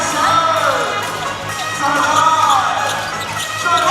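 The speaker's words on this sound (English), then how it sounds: "We go into the God of War's Mars chant." A packed arena crowd at a TPBL basketball game between Taipei Taishin Mars and New Taipei CTBC DEA roars the rhythmic God of War Mars chant, loud and sustained, with voices rising and falling in waves.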